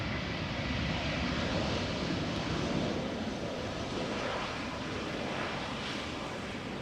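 A LOT airliner arriving from Warsaw at Amsterdam Schiphol touches down, its engines giving a steady, broad roar with rushing wind-like noise that holds at an even level throughout, with no talk.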